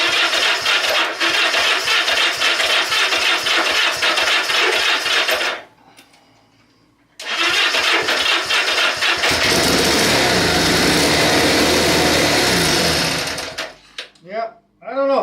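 A Honda Benly motorcycle cranks with a rapid mechanical chatter under a little throttle, stops briefly, then cranks again with a rougher rush before cutting out, close by, with a voice speaking near the end.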